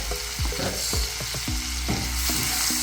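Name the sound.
stirring garlic butter clams with parsley in a pan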